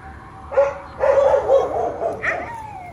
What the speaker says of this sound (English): I don't know if you could hear him over the dogs barking at him.